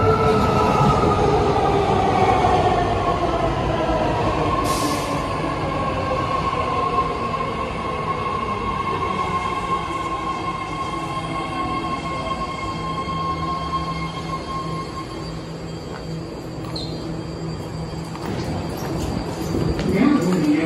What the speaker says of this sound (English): a new train called 3-Dot Fleet of the Future, Green Line, San Francisco, Daily City Train